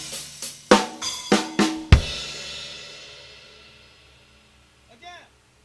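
A slow drum fill on an acoustic kit: crash cymbal with kick, then snare and doubled hi-hat strokes, ending on a splash cymbal that rings out and decays, followed by a faint brief sound near the end.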